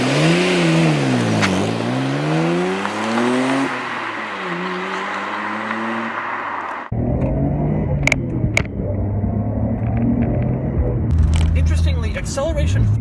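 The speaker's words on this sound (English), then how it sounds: "For a 25-year-old car, acceleration is surprisingly strong." A 25-year-old Nissan Skyline GT-R engine revs and accelerates, rising and falling through gears with a loud cabin drone, then shifts to a steadier lower hum with brief clicks, talk over parts of it.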